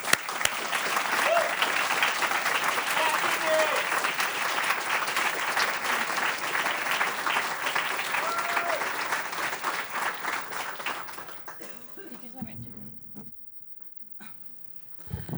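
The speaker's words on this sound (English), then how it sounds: "Please give them a hand of applause." An audience at a climate summit gives presenters a long round of steady applause, dense and fairly close, which thins out after about eleven seconds into near silence. A brief high squeal sounds over the clapping.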